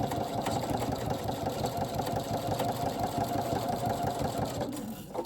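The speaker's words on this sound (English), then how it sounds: "And then I'm just going to finish sewing." A sewing machine stitches the binding onto a quilted table runner, running in a continuous, close, rhythmic whir for several seconds before easing off briefly at the end.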